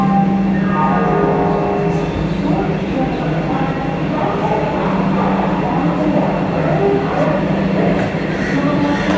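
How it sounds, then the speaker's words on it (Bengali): Steady, loud rumble and rattle inside a moving Vande Bharat Express carriage running from Howrah to Puri, continuous throughout, with muffled voices now and then. "আমরা এই বন্দে ভারত এক্সপ্রেসে পুরী যাচ্ছি।"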